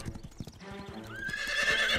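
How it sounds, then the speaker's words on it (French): A cartoon horse's hooves clip-clop in quick rhythmic steps, then it lets out a loud, rising whinny that carries to the end of the short clip. "Tu ne penses pas sérieusement que Pepper est juste un cheval?"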